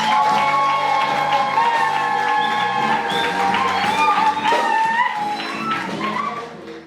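Wedding guests at an outdoor celebration clap and cheer with shouts and whoops, a lively crowd sound that stays strong before tapering off toward the end.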